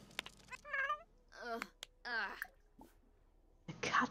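A cat in the video game The Sims 4 meows several times, drawn-out plaintive calls with short pauses between them, close and clear, ending in a harsher, noisier cry.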